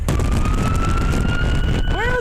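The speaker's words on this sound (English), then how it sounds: "He's using a siren, that's clear." A police-style siren on an impersonator's vehicle holds a loud, steady wail through busy traffic noise, then breaks into rapid rising and falling yelp sweeps near the end.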